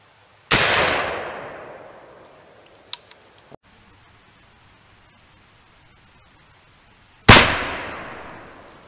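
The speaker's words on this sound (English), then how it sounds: "Let's try a fast second shot from the same spot, same target, same distance, same mode" Two loud, booming gunshots from a doglock canoe gun, each with a long decaying echo, separated by several seconds with faint mechanical clicks of reloading in between, no talk.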